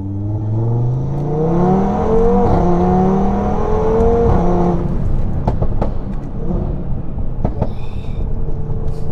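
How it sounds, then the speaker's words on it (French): An Audi TT RS stage 2 making about 600 hp accelerates hard, its engine note climbing loudly and steadily, then a gear change followed by sharp pops and crackles as the revs build again. "Allez, c'est reparti, on se fait une petite accélération"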